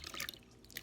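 Water splashes lightly in a tiny bowl at a sink during a skincare routine, a quick faint patter of small drips and splashes.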